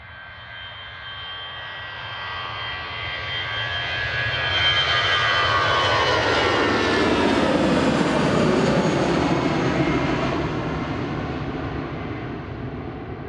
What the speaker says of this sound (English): There goes GEZRZ across to Belfast, short hop across to Northern Ireland.